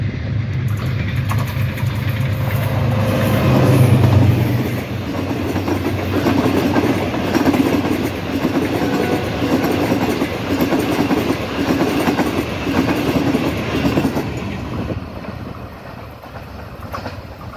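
Pakistan Express, a Green Line service from Islamabad to Karachi, passes Mankiala railway station with a loud steady rumble and rhythmic clickety-clack of wagons that later fades.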